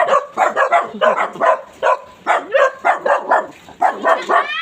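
A dog barks repeatedly in quick, yappy bursts, loud and close, with short pauses between volleys and a few whiny notes mixed in.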